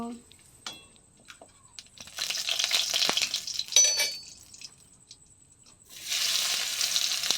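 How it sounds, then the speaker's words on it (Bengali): Bay leaves crackle in hot oil in a pan for a Bengali meat curry, the sizzle swelling into two loud, hissing bursts separated by quieter stretches. "তেল দেওয়ার পর গরম হলে পরে তেজপাতা দেব"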